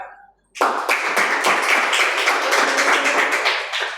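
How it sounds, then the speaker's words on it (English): Classroom audience breaks into steady applause right after a group presentation, many hands clapping together loudly for several seconds without talk. "let's give them a clap"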